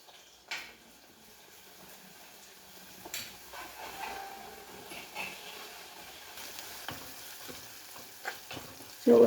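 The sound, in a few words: shallots, crushed ginger and garlic frying in a pan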